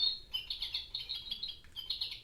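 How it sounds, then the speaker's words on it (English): A goldfinch sings a quick run of high, bright chirps and twittering notes in rapid succession, clear and fairly close with a short pause partway through. "It's the goldfinch."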